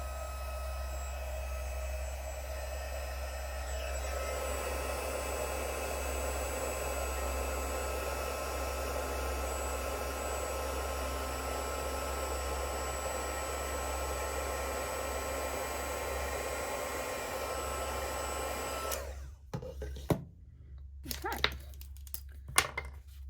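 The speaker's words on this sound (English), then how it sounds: "So it'll get a little bit noisy while I heat emboss that." A heat embossing tool blows with a constant, loud whooshing drone for most of the stretch while embossing a card, then cuts off, leaving a few scattered knocks and clicks.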